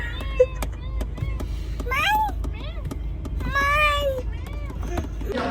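Two cats meow repeatedly in a busy indoor setting, several rising, wavering calls spread across the stretch, close and fairly clear over a low steady background rumble.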